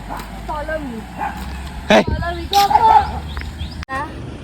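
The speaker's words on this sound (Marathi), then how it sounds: "एक अजून एक डॉगी आहे त्या दोघांचं खूप भांडण होणार आहे" Dogs in a village lane bark and yip at each other in short, loud bursts ahead of a scuffle, with a whimper among them and people talking throughout.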